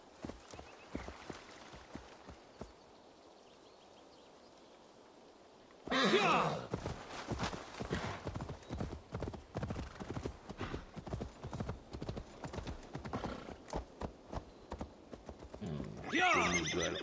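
A horse in Assassin's Creed Valhalla whinnies loudly, then breaks into rapid clip-clopping hoofbeats that run on steadily at close range, with another burst near the end.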